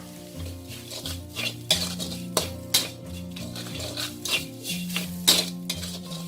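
Garlic and coriander root stir-fried in a pan, with a gentle sizzle under a rhythmic series of spatula scrapes and clinks against the metal, close up with no talking.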